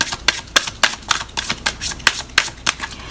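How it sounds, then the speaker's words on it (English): Native American Oracle cards are shuffled lightly by hand, giving a close, crisp run of rhythmic papery riffles and taps, about three per second, with no talking. "I'm just going to shuffle these lightly and then pull one."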